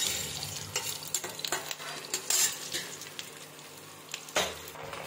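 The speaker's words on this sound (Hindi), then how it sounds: "इस तरह से मैं इसे हल्का फ्राई कर लूँगी" Kalmi greens lightly frying in a pan over the stove, with a steady sizzle broken by repeated utensil scrapes and clinks as they are stirred, close and moderately loud.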